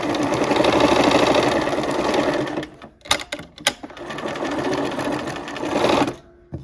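A sewing machine stitches a quilt block seam in a steady, close whir, stopping briefly near the middle for a few clicks before running on again and then falling quiet.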